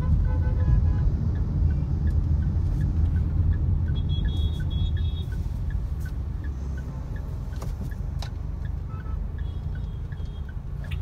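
Mahindra XUV300 turbocharged petrol SUV accelerating, a steady low engine rumble and road roar that holds loud throughout, faint ticks and a brief high whine riding above, with no voices.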